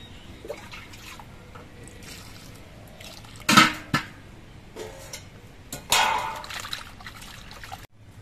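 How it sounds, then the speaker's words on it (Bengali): Cut potatoes and pointed gourd are washed in water, a few short splashing and sloshing bursts with drips between them, close by over quiet background, with no talking. "এবার এই আলু আর পটলগুলো ধুয়ে নিতে হবে।"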